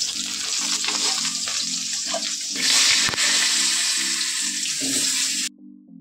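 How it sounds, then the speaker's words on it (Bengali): Fish sizzles loudly in a pan, with a steady hiss and crackle and a low hum under it. Now and then there is a brief louder burst of spattering before it stops abruptly. No one speaks. "মাছ ভাজছে এদিকে।"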